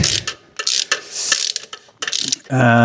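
Ratchet tightening catalytic converter bolts on a Fiat, loud close clicking strokes in short bursts separated by brief pauses, ending in a sustained buzzing tone.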